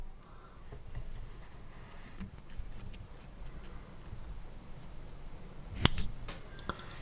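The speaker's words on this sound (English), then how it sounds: "take your scissors and cut a V into this" Scissors snip a V into the collar of a mouse fly pattern while tying, a few quiet close cuts with a sharper snip near the end over a faint room background.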